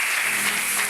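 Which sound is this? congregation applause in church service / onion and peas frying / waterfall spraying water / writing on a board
congregation applause in church service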